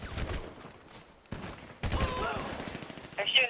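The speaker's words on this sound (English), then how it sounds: "They're shooting at you now." Gunfire from bikers shooting in GTA 5, a few sharp bursts spread across the moment amid game sounds, with voices talking over parts of it.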